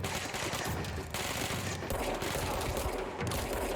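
Rapid bursts of gunfire in the video game Control, dense continuous shots from a sci-fi service weapon filling the moment, loud and close with no talking.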